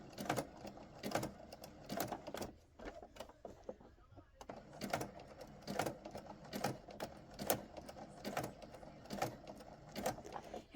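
A sewing machine stitches a jelly roll rug of fabric strips in quick rhythmic bursts, pausing briefly while the presser foot is lifted and the work turned, then resuming; quiet and close.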